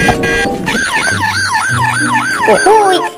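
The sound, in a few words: police car siren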